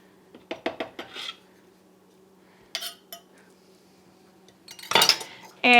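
Crushed garlic scraped into a bowl, heard as sharp metallic clinks and scrapes of a utensil against dishware in short clusters separated by quiet gaps, close and without speech.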